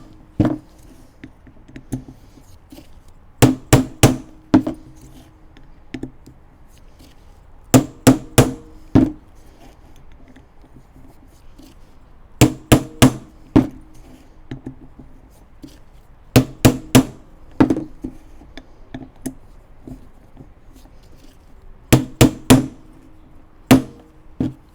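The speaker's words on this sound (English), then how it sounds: "make sure the hammer punch does move it a little bit in your hand" A hammer drives a punch against a Toyota fan clutch in a series of sharp metallic strikes, grouped in quick clusters of two to four hits separated by pauses, loud and close with no talking.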